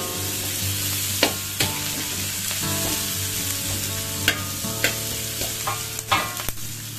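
Prawns being stir-fried in a wok until crisp for Kam Heong prawns, a constant loud sizzle punctuated by repeated sharp clanks and scrapes of a spatula against the metal, close up.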